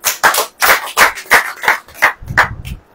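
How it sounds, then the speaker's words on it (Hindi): A gathered audience at a Christian sermon claps in a quick rhythmic beat of about ten sharp claps, loud and close, with no talk over it. "ताली बजाइए।"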